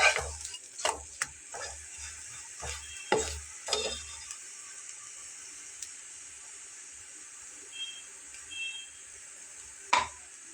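Egg pitha fries quietly in oil with a faint steady sizzle, broken by sharp taps and scrapes of a spatula at the start and again near the end.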